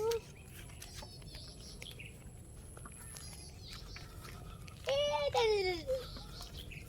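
Outdoors on a walk near a grotto church in San Jose del Monte, Bulacan, a crow gives a short series of harsh, loud calls, with a child and an adult speaking nearby.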